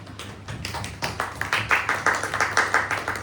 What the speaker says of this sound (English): First of all, clap for your all self.